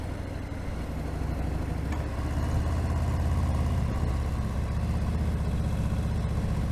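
Harley-Davidson Fat Bob 114 motorcycle idling outdoors on a chilly day, a steady low, close engine rumble that swells slightly partway through and holds even, with no talking.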